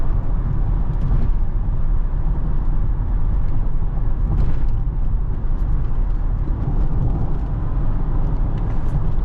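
A 2008 Mercedes-Benz E320 CDI with a 224 hp V6 diesel and 7G-Tronic gearbox driving a windy road, heard from inside as a steady, loud low engine drone and road rumble throughout, with no talking.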